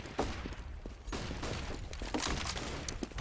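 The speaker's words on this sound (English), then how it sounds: "So here we go for mass headshot from Existence. That's going to drop Alu" Counter-Strike gunfire during an ESEA Invite esports match between VeryGames and ENCE, a dense burst of overlapping shots and rapid rifle fire packed into a few seconds, loud and continuous.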